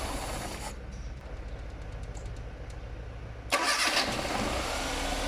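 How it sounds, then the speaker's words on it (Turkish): A Tofaş Şahin car engine converted to a carburetor cranks and catches, idling low before a louder surge of revving as it starts up. "İşte gaz vermeden marşını gösterelim"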